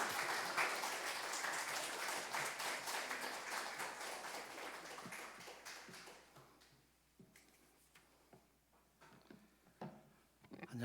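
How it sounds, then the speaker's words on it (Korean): Church congregation applauding to welcome a visiting pastor before a Sunday sermon, steady dense clapping for about six seconds that thins into scattered, fading claps. "박수로 모시도록 하겠습니다."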